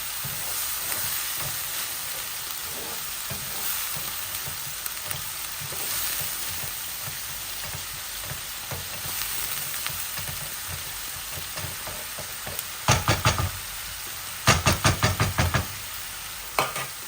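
Tengra fish frying in a pan with turmeric, giving a steady close sizzle throughout, with a few sharp knocks and stirring clatters near the end.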